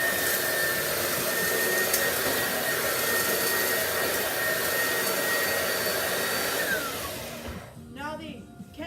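Vacuum cleaner running continuously at close range with a loud, steady whine and airy roar, then switching off and winding down near the end.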